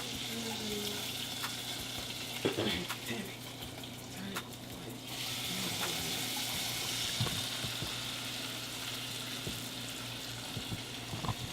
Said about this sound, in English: usually when you sear it